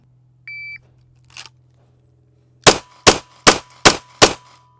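Five pistol shots fired at a target from 5 yards, sharp loud cracks in an even rhythm about half a second apart, preceded by a brief electronic beep and a faint rustle.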